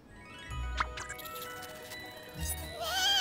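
A cartoon lamb in an animated school bus show bleats in a couple of short, close wavering cries over a bed of background music and sound effects.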